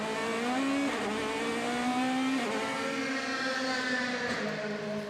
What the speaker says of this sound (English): You can really hear the car roar as it goes up through the gears.